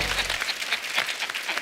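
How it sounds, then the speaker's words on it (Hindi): Studio audience applauding at a comedy talk show, a short burst of crowd clapping heard up close. "तालियां मार दो इसमें।"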